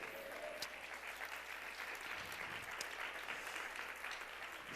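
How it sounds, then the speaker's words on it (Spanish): Congregation applauding during a church sermon, a steady, fairly faint wash of clapping from many hands that carries on without a break. "Si ese aplauso es para Dios"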